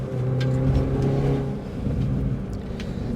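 A Porsche sports car drives past on a road, its engine a steady loud rumble with a slight rise and fall in tone, close by and continuous, no voices over it.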